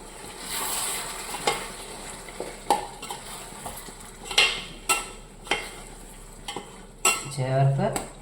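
Ground tomato going into a pan of chicken curry, with a soft sizzle under repeated spoon scrapes and clinks against the pan, close and fairly quiet.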